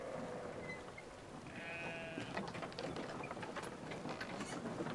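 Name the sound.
goat bleating in Brothers video game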